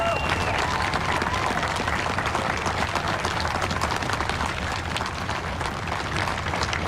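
Dense, steady applause from a large outdoor crowd at Joe Biden's presidential inauguration, sustained and loud throughout, with cheering voices mixed in.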